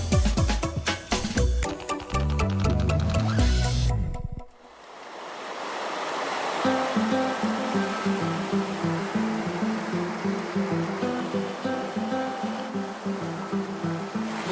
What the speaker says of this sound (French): Un ruisseau à franchir. Il a l'air glacial.